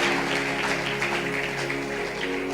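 A church congregation claps loudly during a sermon, forming a dense, continuous wash of hand claps that holds steady throughout, with a low tonal hum running beneath.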